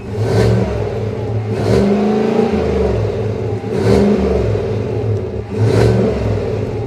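A 2025 Chevy Tahoe Z71's Ecotec3 V8 with a 10-speed automatic revs repeatedly, four loud close throttle blips rising and falling over a deep steady engine rumble, with no talking.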